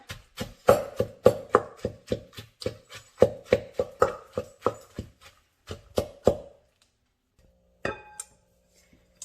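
Tomato, pepper and a teaspoon of chicken bouillon are pounded in a hand chopper for air-fried tomato pepper, giving a fast run of sharp, close knocks for about six seconds, then a pause and one last thump.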